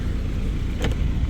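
A 2024 Subaru Ascent Premium's engine runs with the car parked, giving a steady, low idle rumble that holds at an even level throughout, with a brief brighter rustle midway.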